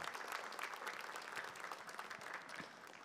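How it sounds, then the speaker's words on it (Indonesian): Audience applause at a stand-up comedy show, a steady dense wash of many hands clapping through the whole stretch, fairly even in loudness with no voices on top. "Tepuk tangan dong"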